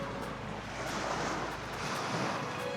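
Soft surf and gusty wind on a beach in Cozumel, a continuous wash of waves with breezy rumble against the microphone, moderately distant and without talk.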